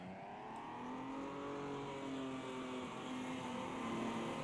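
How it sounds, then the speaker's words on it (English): A GTL race car still circulating on track at Bathurst in a charity race, a steady engine drone with rising and falling pitch as it runs at speed, moderately distant and continuous, with no talking. "I think there's a car that's coming behind that's still racing actually."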